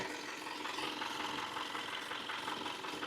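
A pickup truck engine running close by at a steady, rough rumbling idle, with no clear rise in revs and no voices.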